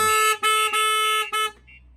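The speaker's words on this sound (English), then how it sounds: "Any continued impact will trigger the full alarm, and then after 5 seconds the vehicle horn will chip in." Starline S96 van alarm fitted to a VW Transporter T6.1 sounds alongside the vehicle horn, giving four loud sustained harmonic blasts in an uneven rhythm before cutting off to a faint tail.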